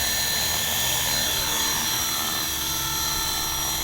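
A KDS 450 RC helicopter flies under manual control with no position or altitude hold, its steady, loud rotor and motor whine continuous and close throughout, with no talking.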